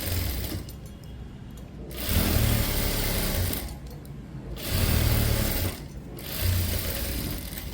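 A sewing machine stitches a blouse in three loud bursts of rapid whirring, separated by short pauses, close and alone.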